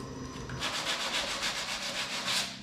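A knife blade scrapes in quick repeated strokes along the freshly cut edge of a plastic Ski-Doo DS4 snowmobile ski, taking off burrs with a close, rhythmic rasping and no talk.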